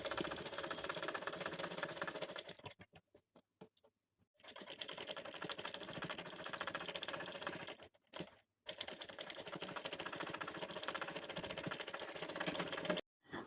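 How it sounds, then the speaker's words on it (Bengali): Sewing machine stitching the bottom hem of a child's frock, a rapid mechanical clatter in long bursts separated by short pauses, close and fairly faint. "এখন আমি নিচের ঘের অংশটি সেলাই করব।"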